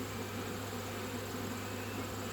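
Honeybees taking flight from a slipped frame during an autumn hive inspection, a steady close-up buzzing drone of many wings that stays even and unbroken.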